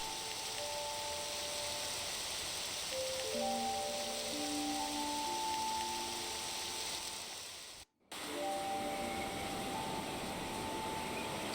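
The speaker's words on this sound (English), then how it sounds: "Rain! Storm!" Steady rain falls across an empty village in the video game Octopath Traveler 2, a continuous soft hiss under faint game music tones, with a brief dropout near the end.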